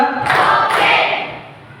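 Two loud hand claps, close and sharp, each ringing briefly in a room, the second following about half a second after the first.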